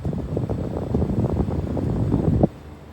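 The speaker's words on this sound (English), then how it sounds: "here's some footage of the heat pump running for the first time" An Aira heat pump running for the first time, heating water: a loud, rough mechanical whir with a fluttering rumble runs for a few seconds, then suddenly drops to a quieter hum.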